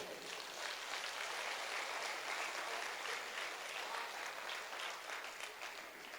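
Sustained audience applause at a Hindi kavi sammelan (poetry gathering) in Rath, Hamirpur, a dense steady roar of many hands clapping throughout, fairly distant and even in level with no voices on top.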